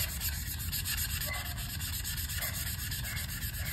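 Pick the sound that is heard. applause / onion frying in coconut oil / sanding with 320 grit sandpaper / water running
sanding with 320 grit sandpaper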